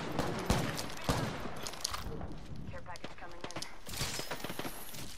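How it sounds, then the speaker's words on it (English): Gunfire in the Apex Legends battle royale game, a rapid burst of sharp shots over busy game noise, with a faint voice underneath. "Gunshot."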